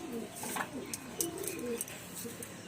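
Pigeons in a loft coo in soft, repeated low burbles, close by over a faint background hiss, with a few light flutters and clicks.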